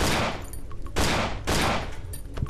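Gunfire in the horror game Cry of Fear: three loud, close shots in quick succession, each a sharp blast with a short ringing decay.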